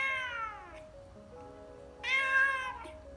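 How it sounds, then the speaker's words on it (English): A recorded cat meow played through a Google Home Mini smart speaker: two drawn-out, slightly tinny meows about two seconds apart, clear and close with no talking. "This is a cat."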